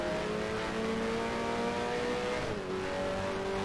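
Racing car engine in the F1 Challenge 1973 video game on a qualifying hot lap of the old Silverstone layout, a steady high-revving drone that holds its pitch, then drops briefly at a gear shift before climbing again.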